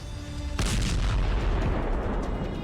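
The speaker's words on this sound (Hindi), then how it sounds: "देखिए ये मिसाइल किस तरह अपने टारगेट की तरफ बढ़ती है और फिर होता है बड़ा धमाका।" A cruise missile launched from a ship strikes its target in a sudden heavy blast, a deep booming explosion that erupts abruptly and rumbles on loudly with crackling debris after a short quieter lead-in.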